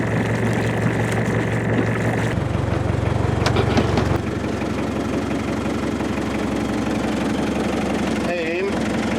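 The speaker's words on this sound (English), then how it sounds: "it's time to start the engine up and let the engine run for a while" An engine that has just started, running at a steady idle with a rough, knocking mechanical beat, loud and close. It stays continuous, and a brief voice cuts in near the end.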